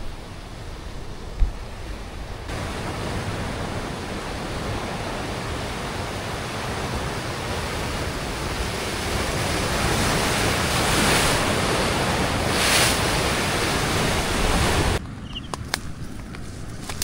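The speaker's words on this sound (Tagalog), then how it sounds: "Grabe yung alon" Ocean waves crash on the shore at Umbrella Rocks, a dense continuous roar of surf blended with wind buffeting the microphone, steady and loud throughout, easing slightly near the end.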